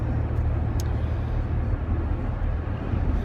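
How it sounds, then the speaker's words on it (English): Interior road noise from a moving car, a steady low rumble and hum of engine and tires throughout with no voices. "I'm driving and I'm trying to pay attention to the road"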